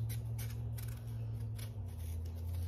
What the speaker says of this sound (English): first thing we're going to do is peel these sweet potatoes